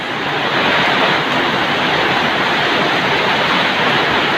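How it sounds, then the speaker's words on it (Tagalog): Heavy, steady broadband roar of rain with gusting wind in Pangantucan, loud and continuous, with no voices. "ang lakas ng ulan dito sa Pangantukan Pignum ayan may kasabay pang hangin"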